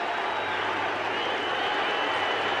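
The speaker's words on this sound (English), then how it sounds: "The crowd on its feet here in Arlington." A baseball crowd at the stadium in Arlington cheering and applauding during a ninth-inning no-hitter, a dense, steady roar of massed voices and clapping heard from within the stands.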